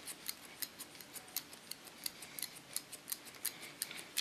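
Scissors slice-cutting hair for a short pixie cut, a quick run of crisp snips at a steady, slightly uneven rhythm, close and fairly faint, with no talking.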